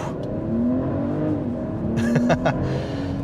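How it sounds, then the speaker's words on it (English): A Mercedes-Benz GLE's turbocharged inline-six with mild hybrid assist pulls hard, its engine note rising steadily in pitch as the SUV accelerates, with a couple of brief higher-pitched bursts partway through. "the good old internal combustion engine won't go down without a fight because this turbocharged inline-six, which is also electrically assisted by a mild hybrid system"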